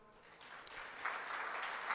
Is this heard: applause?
yes